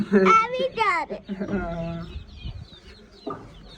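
Chickens and roosters, small and large, cluck and squawk close by in short bursts while being fed, with a person talking over and between the calls.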